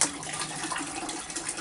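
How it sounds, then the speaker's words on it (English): Water pours and gushes into a plant pot during magnolia potting, a short continuous splashing flow heard up close. "I'm going to pour that water in there with it."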